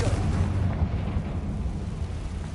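The Confringo spell in Hogwarts Legacy lets out a deep, rumbling fiery blast that rolls on and slowly fades over a couple of seconds, with no voices over it.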